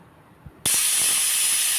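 A home kitchen pressure cooker on the stove suddenly lets go a loud, sustained blast of escaping steam after a few small clicks, the hiss continuing strongly and evenly to the end.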